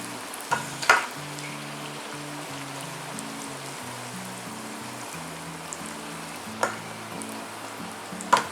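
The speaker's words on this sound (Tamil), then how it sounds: "நல்லா சூப்பராக ஃப்ரை ஆகிட்டுருக்கு." Curry leaves deep fry in oil for crispy curry leaf chips, producing a steady bubbling sizzle with a few sharper spits and crackles, heard close over a faint low background tone.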